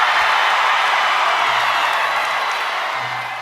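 A large crowd at the D23 Expo roaring for a Magic Kingdom Villains Land announcement: dense, loud, continuous cheering and clapping that fills the space, with whoops mixed in and a slow fade over a few seconds.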